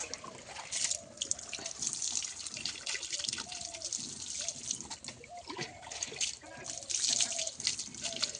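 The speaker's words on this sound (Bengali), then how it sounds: "সোনাই, তুই স্নান করছ?" Water splashes and drips steadily while a little girl is bathed, a close, continuous wet sloshing with a few brighter splashes, and a voice talks over it at times.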